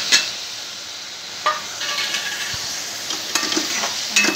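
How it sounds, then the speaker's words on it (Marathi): Masala spices with chili powder and turmeric being roasted in a pan for chole, a soft steady sizzle with occasional light scraping and stirring clinks from a utensil. "आणि मसाला चांगला हे करून घ्यायचा, भाजून घ्यायचा."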